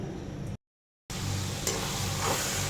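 Spice paste being sautéed in a pan before taro goes in, a continuous close sizzle with faint stirring scrapes, broken by a brief silent gap near the start.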